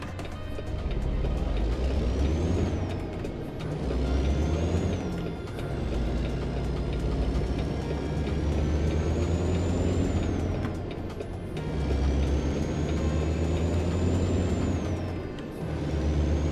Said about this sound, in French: Écoutez-moi ce moteur, écoutez-moi ce monstre.